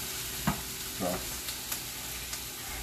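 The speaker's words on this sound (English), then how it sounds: "Stir, stir, stir." A spoon stirs a chicken and dumplings mixture in a pot, giving a few soft scrapes and knocks over a steady low sizzle, quiet and close with no talking.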